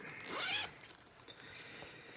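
A zipper on a handmade bag fitted with a zipper pull rasps in one close, quick pull lasting about half a second, followed by faint handling noise with no talking.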